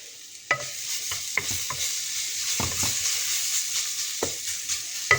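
Food sizzling in a pan while being stirred by hand during home cooking, steady frying hiss with a few scraping stir strokes, close and moderately loud, with no talking.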